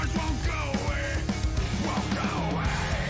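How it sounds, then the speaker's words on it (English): A metal vocalist screams with a modern edge on an album track, the harsh yell carried over dense, loud distorted guitars and pounding drums. "that scream right there"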